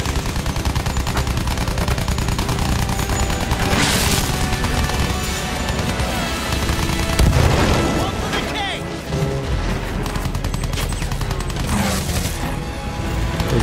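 Loud gunfire in Battlefield 1 rattles in rapid bursts of machine-gun shots mixed with heavier booms and crashes, continuous and dense throughout.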